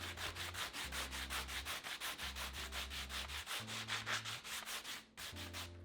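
Close, rhythmic sanding strokes scrub back and forth over painted salvage wood, smoothing a glop of paint into the pink edge, with a steady low hum running beneath and a brief pause near the end.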